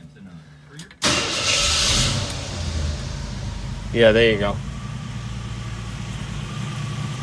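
A Jeep CJ-7 with a stainless exhaust cranks briefly and fires, then settles into a steady, fairly quiet idle with a short rise in revs partway through, while someone speaks briefly over it.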